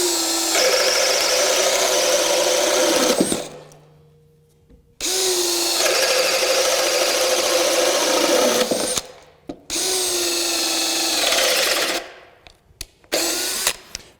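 A DEWALT Atomic compact 20V brushless 1/2-inch drill/driver, set on high, bores a 1 3/4-inch hole in wood. It whines loudly in three long bursts, then gives short stuttering spurts, with abrupt silent pauses between runs.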